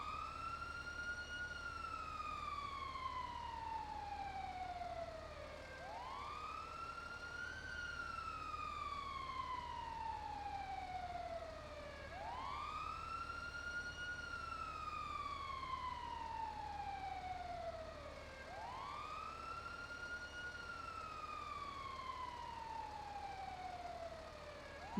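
Emergency vehicle siren wails in slow repeating rising-and-falling sweeps, about four cycles, steady and moderately distant over a low constant hum, with no talk.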